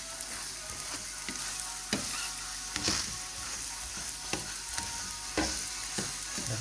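A paratha fries in a pan with a continuous bright sizzle, broken by repeated sharp clacks and scrapes as it is moved and handled, and no talking is heard.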